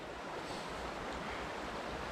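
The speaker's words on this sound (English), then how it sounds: "And the rapid water of the creek itself." Rapid water rushes down a snowy creek on a very cold day, a constant broadband roar that stays close and steady with no voices over it.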